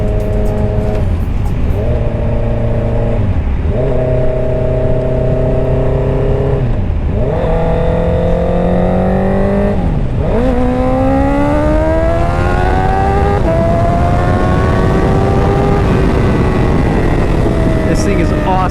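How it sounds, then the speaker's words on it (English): Honda CBR650R E-Clutch motorcycle engine under way, loud and close, its tone rising through each gear before dipping sharply at every shift, repeating several times over steady road and wind noise. "if I were to pull in the clutch and then shift, I'd use it as like a normal motorcycle"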